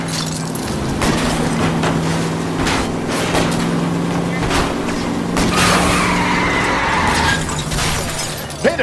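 Car tires skid and squeal through a loud video-game car chase in L.A. Noire, with engine roar, crunching impacts and a sharp shattering burst near the end, while voices talk over the action.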